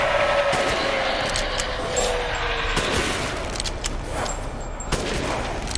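Gunfire from a Resident Evil Village video game, a dense volley of shots and booms with sharp broadband cracks recurring over a steady loud background of game sound.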